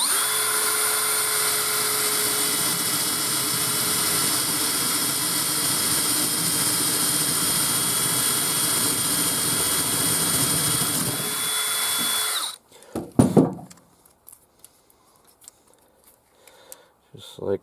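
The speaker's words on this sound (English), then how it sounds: "So I usually drill a hole underneath." A power drill boring a hole into the underside of a wooden mouse trap, running as a steady high whine for about twelve seconds, then stopping abruptly, followed by a few knocks and handling sounds.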